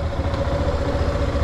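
A motorcycle engine idles steadily close by during a driving licence test, a continuous even rumble with a faint clattering texture and a humming tone, without any talk.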